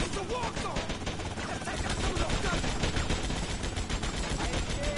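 Rapid bursts of gunfire in GTA Vice City as barrels are shot, dense and continuous over game music and effects.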